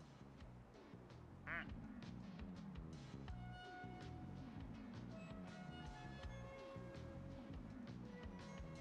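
Squeaky plastic duck quacks in the Placid Plastic Duck Simulator video game, one sharp quack standing out amid a dense, steady wash of game sound and background noise.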